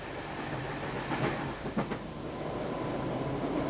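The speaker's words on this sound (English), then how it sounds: "Some people go by train." A train rolling along rails at a moderate distance, steady rumbling wash with a few faint clicks and clatters, no voices over it.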